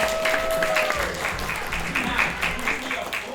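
Theatre festival audience applauding at a comedy play, a dense wash of clapping mixed with voices and a brief sung or sustained tone early on.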